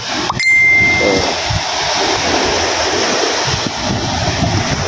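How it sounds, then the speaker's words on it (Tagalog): Strong ocean waves surging and breaking close by, with broad steady wash and wind buffeting the microphone, alongside a brief ringing tone near the start. "Ito naman na yung alon."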